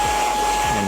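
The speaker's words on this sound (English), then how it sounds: "And then looking at the blower on the back, this is for air mattresses. Just twist it like so, and power it up," A Fanttik Slim V8 Apex handheld vacuum's air-mattress blower runs with a steady, loud whooshing hum and a constant whine, close by, alone for under a second.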